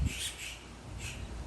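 Birds in the Gambia giving harsh, raspy squawking calls in two short bursts, moderately near over a quiet outdoor background.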